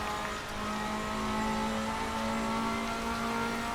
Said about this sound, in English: Absolutely tremendous sounding engine here. Probably the best sounding Ferrari engine I've heard in sim racing.